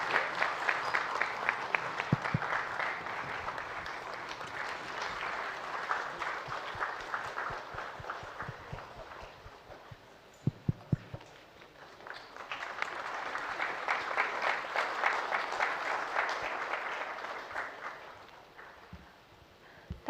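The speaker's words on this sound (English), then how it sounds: "let's give her a big applause, standing ovation" A large audience applauds steadily, swelling and fading, with a brief lull midway before the clapping builds again into a long standing ovation.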